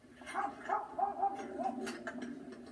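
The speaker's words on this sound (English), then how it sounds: "he hears his dog barking like crazy" A dog barks repeatedly in quick, agitated bursts near a farmyard with hen houses and storage sheds, the yaps coming in a rapid uneven string at moderate volume.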